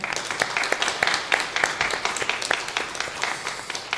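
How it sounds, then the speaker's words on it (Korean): A church congregation at a New Year thanksgiving service applauds newly appointed deacons, brisk, moderately loud clapping from many hands in an indoor sanctuary, steady throughout. "임명된 분들을 위해서 박수로 환영하겠습니다."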